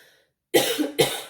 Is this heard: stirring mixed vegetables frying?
no